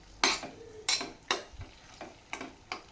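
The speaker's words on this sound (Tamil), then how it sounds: "சேர்த்துட்டு ஒரு தடவை லைட்டாக மட்டும் கலந்து விட்டுக்கோங்க." Egg being stirred into frying masala for kothu chapathi made from leftover chapathis: about six sharp spatula scrapes against the pan at an even pace over a faint sizzle, close up, no talking.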